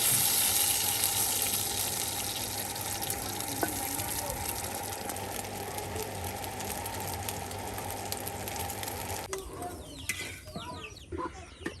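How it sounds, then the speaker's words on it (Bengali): Eggs fry in a pan one after another, giving a continuous hissing sizzle for most of the stretch before it turns quieter and more uneven, with scattered crackles near the end. "একে একে কিন্তু বেশ অনেকগুলো ডিম আপনার ভেজে নেওয়া হচ্ছে"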